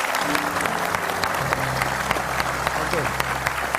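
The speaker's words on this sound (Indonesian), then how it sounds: "Tepuk tangan sekali lagi buat Zul" Studio audience applause rings out at an Indonesian television talk show, a dense, steady clapping that fills the whole stretch, with a voice and music-like tones underneath.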